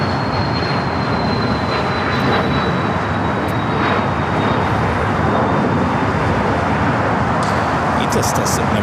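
An airplane departing from a runway at LAX, a loud continuous engine roar that rises with a whining tone, heard over traffic-like background noise with talk mixed in.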